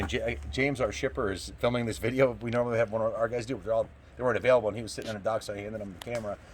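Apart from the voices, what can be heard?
No everyday noises stand out.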